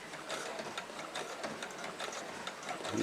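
Sewing machine stitching through thick quilt fabric under the presser foot, a fast even mechanical whirring with rapid ticking, close and fairly quiet.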